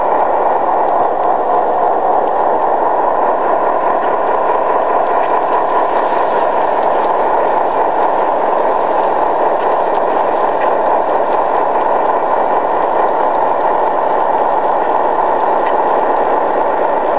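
A 25-car model freight train pulls ahead on a layout, giving a constant, loud mechanical hum and whir that holds steady and unbroken, with no voices over it.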